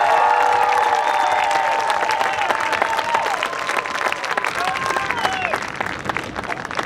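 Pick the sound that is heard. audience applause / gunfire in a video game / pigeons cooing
audience applause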